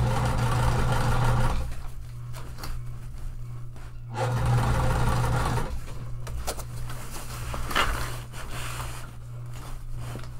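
A strong home sewing machine runs in steady motorized bursts while top stitching a tote bag as it is maneuvered along, with a short pause mid-way; close and moderately loud.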